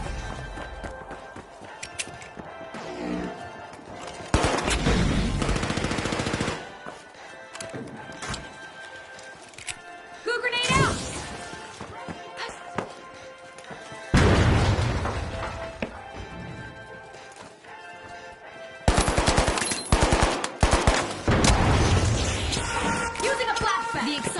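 Gunfire and grenade blasts in the online shooter The Finals during a cash-out fight, loud bursts and crashes packed in dense clusters with brief lulls between, continuous over the whole stretch.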